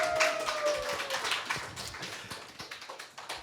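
Audience applause in a live show venue, a dense patter of many hands clapping at moderate volume, steady throughout and tapering slightly near the end.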